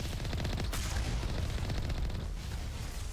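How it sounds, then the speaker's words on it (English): Rockets firing in the video game Mass Effect, a dense rapid barrage of blasts and booms rolling continuously, loud and close, with no speech. "That's a lot of rockets."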